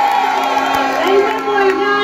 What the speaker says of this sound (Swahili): Wapi makofi ya Veronica Maina?